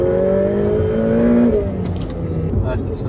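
A Ferrari F8 engine while driving, a steady close drone with a tone that rises and then eases, heard under someone talking.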